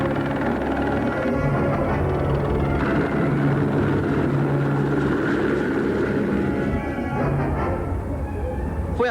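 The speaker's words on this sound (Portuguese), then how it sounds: "Foi apenas um helicóptero" A helicopter drones steadily at a distance, a constant low engine and rotor rumble that holds the same level for several seconds, with no clear speech on top.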